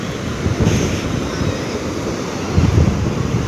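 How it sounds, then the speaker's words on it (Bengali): Cold wind blows steadily across Mandarmani sea beach, a loud broadband rush with surf rumbling beneath and gusts swelling near the end, no voices. "পুরো একদম ঠান্ডা হাওয়া"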